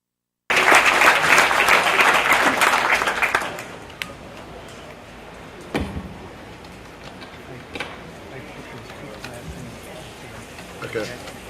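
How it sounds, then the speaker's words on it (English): A burst of strong applause from a crowd at a ring event for a job well done, dense clapping that fades after a few seconds into a quieter room with scattered knocks and bumps. "Let's give another big round of applause for a job well done."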